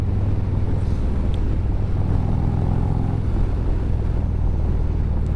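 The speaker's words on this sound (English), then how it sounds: "Good sounding motor." A new Harley-Davidson Street Glide motorcycle engine runs steadily on the road, its low rumble continuous and fairly loud, mixed with heavy wind buffeting for the whole stretch.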